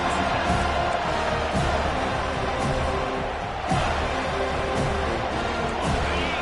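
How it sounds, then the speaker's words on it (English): A large football stadium crowd roars and cheers in a loud, sustained wall of noise with brief swells, greeting the visiting team around a kickoff return. "This crowd bringing an ear-splitting welcome to their visitors."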